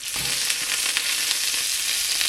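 A hamburger patty sizzles and splatters in a Nostalgia MyMini skillet, a loud, continuous hiss with small pops, no talk.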